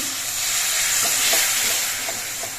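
A small splash of water hits a hot pan of frying Kashmiri chili powder masala, setting off a steady, bright sizzle and hiss with faint scraping strokes of stirring, with no voices.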